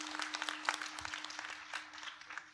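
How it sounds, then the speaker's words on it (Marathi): Applause from an audience at a Marathi kirtan gathering, clapping for the women's groups: a steady patter of many hands, faint and distant throughout. "त्या महिला मंडळांसाठी एकदा जोरदार टाळी वाजवा बाबा."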